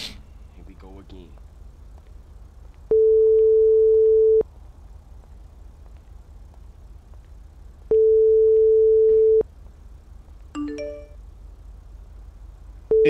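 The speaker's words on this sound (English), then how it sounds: "Is he calling me and I'm calling him?" Phone ringback tone during GTA V roleplay gameplay, long steady electronic beeps repeating at regular intervals with silence between, loud and clean, with brief other game sounds in the gaps.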